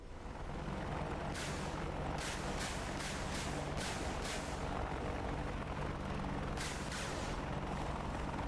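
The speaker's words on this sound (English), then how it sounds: "let's try and do a bit of area coverage with some rockets" A volley of rockets fired from an AH-64D Apache attack helicopter in the DCS flight simulator, several rapid bursting launches in two groups over a steady, loud rotor and engine drone, with no voices.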